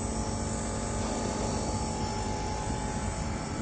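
Compressor running in the slave 1 outdoor unit of a VRF/VRV air-conditioning system, a loud, steady broadband roar and hum close by, with no one speaking.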